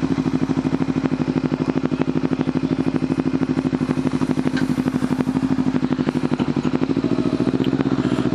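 A motorcycle riding along a street, its engine giving a loud, steady, close drone with a fast pulsing beat that holds throughout without any change.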